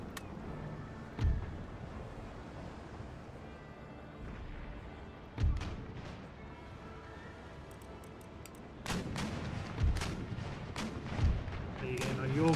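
Naval cannon fire in Empire Total War, with heavy booming shots from ships exchanging broadsides, including against a first rate, a brig and a war galleon: about half a dozen loud thumps spread across a rumbling battle bed, clustered toward the end.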